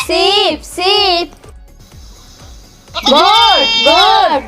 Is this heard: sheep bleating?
yes